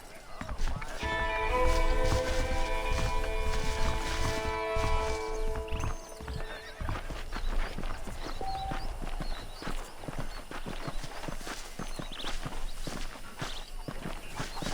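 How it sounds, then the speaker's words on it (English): Horse hooves clip-clop at a steady walking pace in the Red Dead Redemption game, over a continuous musical score and talk, with no clear neigh standing out. "I picked out a fine horse for you."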